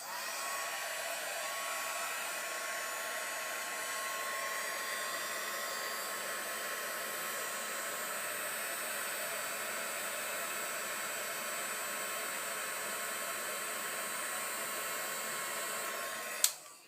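A heat embossing tool runs continuously while preheating before melting gold embossing powder on a greeting card project, giving a steady, close, even blowing roar that ends abruptly with a click.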